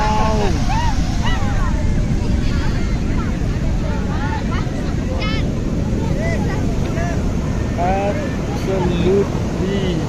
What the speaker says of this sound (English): Absolutely beautiful waves.